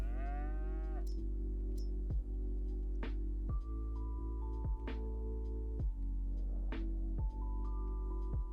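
Cattle in Farming Simulator 22 on the Zielonka map give repeated loud moos, about eight calls spread evenly across the stretch over a steady low farm hum, with no talking.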